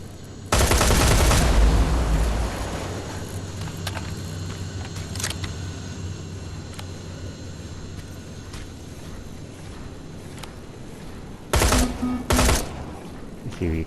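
Gunfire in Terminator: Resistance on PS4: a loud burst of rapid shots opens, a single sharp crack follows around the middle, and another short cluster of shots comes near the end over low game ambience.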